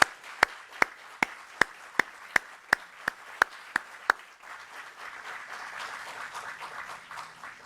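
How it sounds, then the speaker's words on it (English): Audience applause for a retiring police chief at a mayor's press conference: a dozen sharp, evenly spaced claps ring out, then settle into a softer, diffuse patter of clapping from the room. "Please join me in giving her a round of applause for her stellar career."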